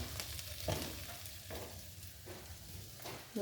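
Okra fries in a pan, a low, steady sizzle broken by a few soft scrapes from stirring. No voices are heard.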